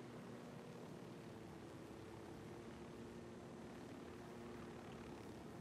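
A helicopter flying in the video game Ghost Recon Wildlands on PS4, a steady, dense rotor and engine drone holding constant with no breaks or voices.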